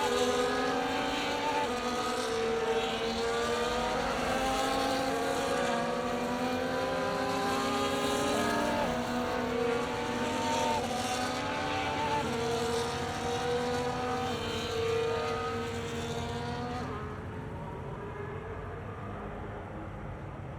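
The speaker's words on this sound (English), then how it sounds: "As the cars come back towards the grid to line up for the start of the race" Formula 1 race cars in the F1 24 video game drive back toward the grid, their engines droning and rising in overlapping pitch sweeps, steady and fairly loud before easing off near the end.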